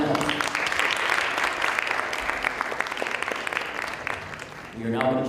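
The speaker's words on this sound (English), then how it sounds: "Let's get one more round of applause." An audience at a student government debate gives a round of applause, continuous dense clapping that slowly thins, with a voice speaking under it near the end.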